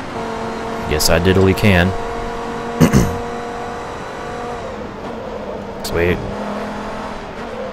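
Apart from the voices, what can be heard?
race cars slipstreaming past a Honda NSX at Suzuka, Forza Motorsport 2 video game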